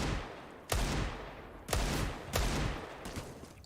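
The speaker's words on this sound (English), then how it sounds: "Oh, 2 more bullets in that deagle." Desert Eagle pistol fire in a Counter-Strike esports match, four sharp loud shots spaced roughly a second apart, each with a short decaying tail over ambient game noise.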